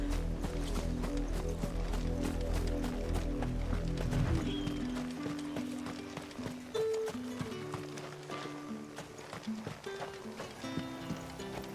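Horse hooves clip-clopping in the video game Final Fantasy XVI in a steady rhythm over a sustained musical background, the hoofbeats continuing throughout at moderate volume.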